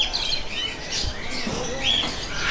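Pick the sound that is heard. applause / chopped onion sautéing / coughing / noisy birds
noisy birds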